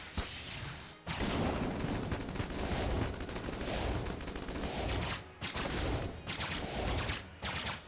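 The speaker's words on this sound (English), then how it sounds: "The shots don't even land!" Rapid gunshots in Enter the Gungeon, fired from weapons like the Heck Blaster and Void Core; a dense, loud barrage of shots and impacts runs almost continuously, broken by a couple of brief pauses.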